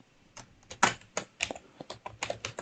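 Quick, uneven keystrokes on a computer keyboard, about a dozen close clicks in short bursts with no talking.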